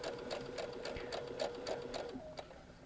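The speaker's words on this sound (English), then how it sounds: "we're going to go just a couple stitches forward, and then reverse stitch just to kind of lock it in" Sewing machine stitching around the edge of a small fabric coaster, a steady rapid mechanical chatter of needle strokes with short regular pulses and a brief pause near the end, close and moderately loud with no talk.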